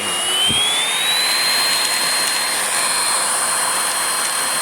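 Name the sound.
Hoover Blade Plus vacuum cleaner running, brush spinning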